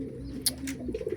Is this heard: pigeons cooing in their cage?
yes